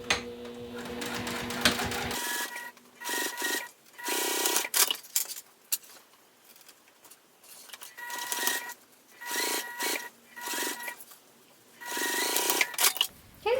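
A sewing machine back stitches to lock the end of a seam on handmade boot-shaped Christmas gifts. It runs in a series of short, close mechanical bursts with brief pauses between them. Nobody talks.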